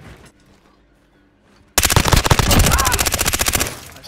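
After a quiet stretch, a sudden loud burst of rapid automatic gunfire rattles for about two seconds in Call of Duty Warzone, close and dominant.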